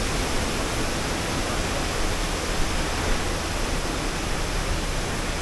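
Constant roaring rush of falling water from the Vasundhara waterfall at Bhandardara, dense and unbroken, filling the whole scene at steady loudness.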